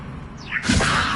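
Levioso levitation spell cast in Hogwarts Legacy, a brief descending whoosh followed by a bright, airy magical burst that swells and lingers for a moment.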